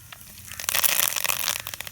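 Curry leaves are dropped into hot oil in a clay pot, and the oil crackles and sizzles with a close, bright hiss and scattered pops rising then settling.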